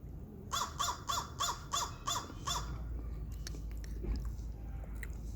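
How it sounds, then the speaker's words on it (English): A crow caws near a kitchen in Kenya, giving a quick series of about seven loud, evenly spaced harsh calls. After that, scattered clicks and clatter sit over a low background rumble. "There's a crow right here."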